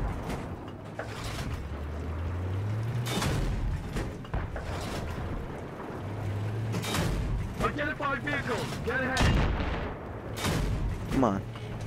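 Battlefield 3 gameplay with a tank, full of continuous rumbling artillery and gunfire, booming explosions and scattered shots at mid distance, while a player talks excitedly throughout.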